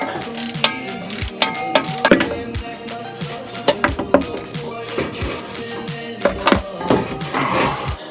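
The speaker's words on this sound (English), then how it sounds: "Get this last bolt out, and that shaft will slide right out." A hand ratchet clicks rapidly in repeated bursts while removing the last drive shaft bolt at the tail of a transmission during a T5 to Tremec TKX swap, with metallic taps and clunks between strokes, close and fairly loud.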